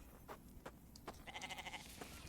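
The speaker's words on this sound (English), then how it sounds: "I hear you, goat." Goat bleats in a video game, a rapid wavering series of bleats in the second half, preceded by a few short clicks and thumps from gameplay.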